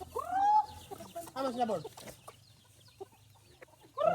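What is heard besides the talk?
chickens clucking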